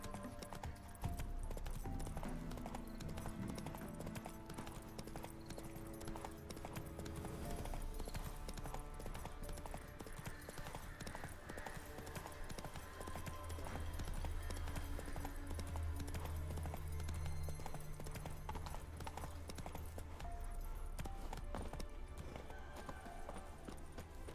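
Roach, a horse in The Witcher 3, gallops with a steady, continuous clip-clop of hooves over a busy game soundscape, with snorts and movement layered through the whole stretch.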